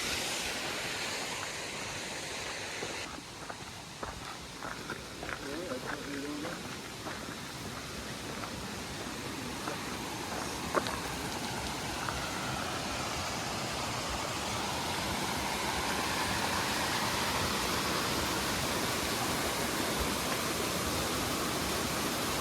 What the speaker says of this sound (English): There's a waterfall right in there.